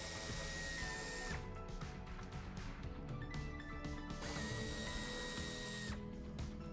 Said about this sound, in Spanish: Aflojamos los tornillos del piloto.